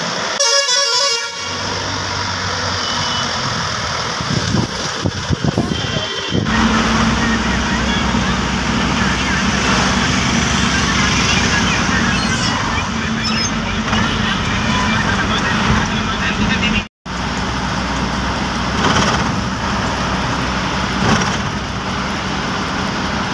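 Loaded truck driving on a road after a twelve-hour haul, a loud, continuous engine rumble with repeated horn honks and passing traffic, briefly cut off near the middle.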